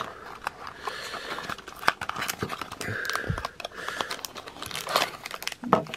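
Plastic film and packaging being torn and crinkled open from a Tomica Mazda Roadster toy car box, close crackling and rustling in irregular bursts with a few sharp rips.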